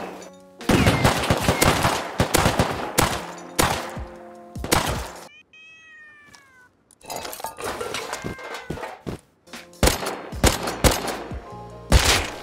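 Gunfire in the survival game Rust arrives in dense bursts of rapid shots with metallic clinks, stopping for a short quiet gap near the middle and then firing again hard. The shots are loud and close, with no talking.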